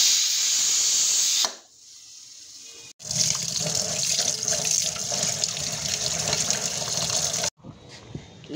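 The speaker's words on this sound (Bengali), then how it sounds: "চলো এবার এটাকে ধুয়ে বেছে নিই।" Running tap water pours loudly into a sink while food is washed, interrupted by short pauses when the flow shifts, with hissing splashes close to the microphone and no talk.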